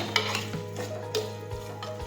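Onion, potato and tomato curry sautés in a pan while a spoon stirs and scrapes against the metal, producing a few distinct knocks and scrapes over a gentle continuous sizzle and a steady low hum.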